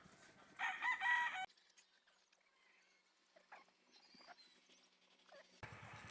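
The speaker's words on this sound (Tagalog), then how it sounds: "nagpapainom na ng mga manok si Richard." Chickens on a Filipino farm crow and cluck in a loud burst near the start, then softer scattered clucks and bird calls follow over quiet background, with another noisy burst at the end.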